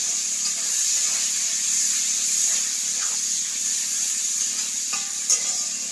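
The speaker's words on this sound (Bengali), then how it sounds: "ভালো করে পেঁয়াজটাকে একটু ভেজে নেব।" Chopped onion and garlic leaves fry in a pan for a chicken dish, giving a steady hissing sizzle with faint scraping stirs, fairly loud and close, with no voices.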